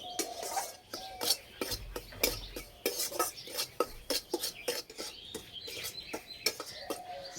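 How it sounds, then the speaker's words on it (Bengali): Chickpea flour (chhatu) is dry-roasted in a pan over low heat, a spatula scraping and tapping against the metal in quick irregular strokes, close and crisp, with faint birdsong chirping in the background. "হালকা আঁচে ভালো করে ভেজে নেব।"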